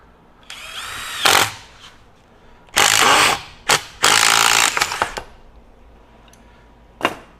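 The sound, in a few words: Bosch Freak GDX18V-1860C impact driver with T40 bit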